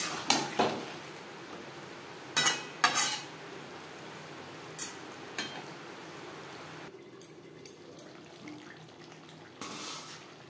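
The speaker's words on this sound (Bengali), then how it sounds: "আর দিয়ে দেবো মশলা ধোয়া জল, যাতে পুরো মশলাটাই অ্যাড করতে পারি।" Water used to rinse the spices is poured into potatoes and masala for a rui fish curry, then stirred. Quiet splashes and sharp spoon scrapes come in short, irregular bursts.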